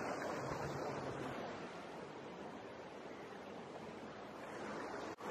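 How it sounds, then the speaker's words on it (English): A small brook flows under a very old stone bridge in an Alsace wine village, giving a steady, close rushing wash of water that holds evenly throughout with no voices over it. "Can you hear the sound of water?"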